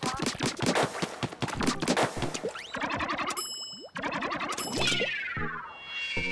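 Hero Shot weapon firing in the Splatoon 2 video game, with rapid bursts of shots, bouncy boings, dings and whooshing game effects over busy in-game noise, loud and close throughout.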